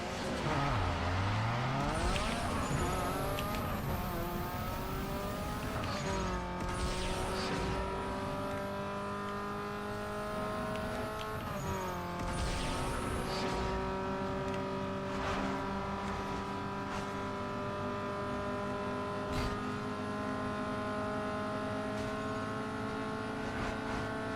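A race car engine in Need for Speed Underground 2 strains at high revs, loud and sustained, its pitch climbing and dropping through repeated gear changes over about twenty seconds with no talking.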